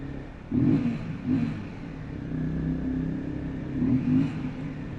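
A single-cylinder motorcycle on a scenic ghat road between Mumbai and Malshej, its engine revving in a few short throttle blips over a low idle rumble, moderately loud with no speech.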